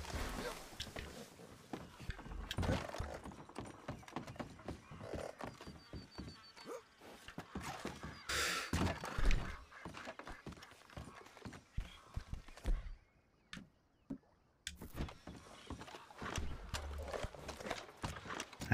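Horse hooves clip-clop in a video game, a run of quick knocking steps with an occasional whinny and thunk, heard over someone talking on and off.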